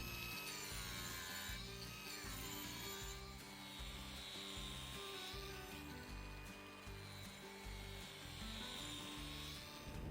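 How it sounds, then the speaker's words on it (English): Power carving zebra wood with a coarse grit grinder wheel on a table leg: a loud, continuous grinding rasp that rises and falls as the wheel works the wood, with no pauses. "I'll carve these 3, again using the coarse wheel"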